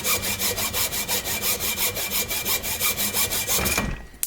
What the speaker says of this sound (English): I got a hacksaw. I'm cutting this thing off, and it just slices through this thing like butter.